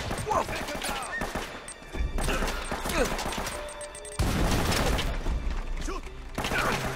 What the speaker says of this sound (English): Just shooting at nothing.